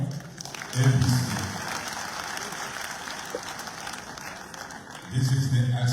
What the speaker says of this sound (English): A clap for APC.